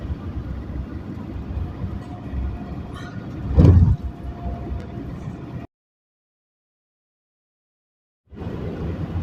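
A van driving along a road through Greece, a steady low road and engine rumble with a brief louder whoosh partway in, then sudden total silence before the drone resumes.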